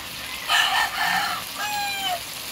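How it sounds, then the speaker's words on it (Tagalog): A rooster crows nearby with a strained, rising call, mixed with a few clucks from chickens close by in a kitchen setting. "Ay, naku manok, ang ingay mo."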